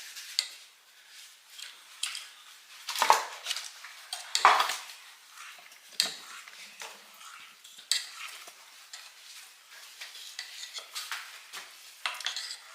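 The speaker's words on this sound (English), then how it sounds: "stir that in really good" A spoon scrapes and clinks against a bowl while brownie batter is stirred, giving an irregular rhythm of soft swishes and sharper knocks with no talking.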